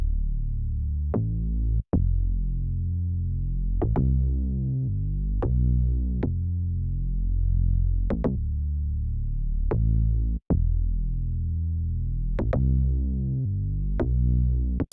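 The Knockout bass patch from the Toxic Biohazard synth in an Afrobeat beat thumps out a deep, throbbing bass line with repeated pitched notes and sharp clicky attacks, looping steadily and loud with no other sounds.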